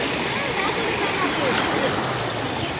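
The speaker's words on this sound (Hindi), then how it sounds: "इधर से आ रहा है पानी बहुत स्पीड में।" Fast floodwater rushing through a flooded area in Pakistan, a loud, dense, continuous roar of churning water filling the whole moment without pause.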